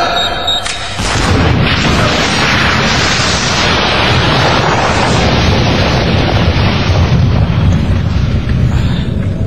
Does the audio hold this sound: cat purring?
no